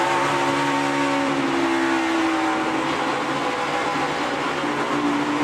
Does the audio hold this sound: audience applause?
no